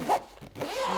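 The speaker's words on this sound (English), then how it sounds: "two zippers on the side here" A side zipper on a fabric carry bag for a Godox LC500R RGB light stick is pulled open in one quick, close rasping stroke, alone and crisp.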